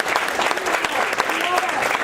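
Crowd applauding at a 2018 campaign rally for Wagner for Governor in Wilkes-Barre, PA, a steady dense wash of clapping hands filling the room, loud and continuous for a couple of seconds.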